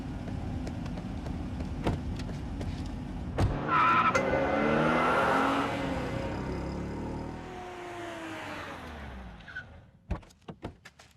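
A car pulls away in a Hindi-dubbed Telugu film scene, its engine rising and falling with a possible tire skid partway through, followed by a few sharp knocks or door thuds at the end. No one speaks.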